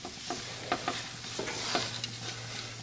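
Flour roux being stirred in a pan with tongs for chicken pot pie: a steady low sizzle under scraping, clicking metal strokes against the pan, close and unhurried, with no voices.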